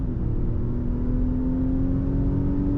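A 2022 Nissan Pathfinder in sport mode accelerates hard, its engine giving a steady, loud, rising drone with a low rumble underneath, continuous and alone throughout.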